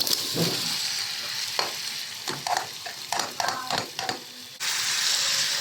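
Stingray fish pieces frying in spice masala for a fish curry, a bright continuous sizzle with irregular clatters and scrapes of stirring, close up and without talk, the hiss swelling louder near the end.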